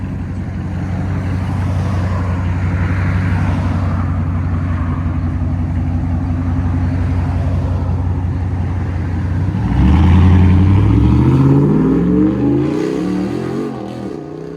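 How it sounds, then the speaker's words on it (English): A deep, throaty V8 exhaust on a RAM truck with a 6.4L HEMI rumbles steadily at idle, then revs up loudly with a rising growl before settling back down, close by. "What a throaty truck, man."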